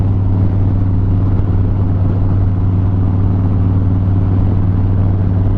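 A motorcycle being ridden, its engine giving a steady low droning hum with constant wind and road noise, close and continuous with no talking.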